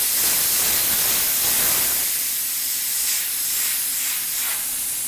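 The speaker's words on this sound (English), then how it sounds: "And release the pressure." Pressurized oxygen vents from a bomb calorimeter through an opened release valve, a loud, steady, broadband hiss close by that eases slightly after the first couple of seconds and then holds on without a break, with no voices.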